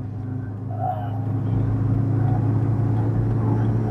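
Toyota Vios NCP42R with a 1NZ-FE engine cruising at speed, a steady low engine drone and road rumble building slightly and holding loud throughout, no talking.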